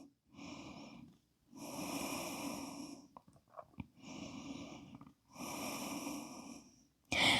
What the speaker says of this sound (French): On reste pour 2 respirations.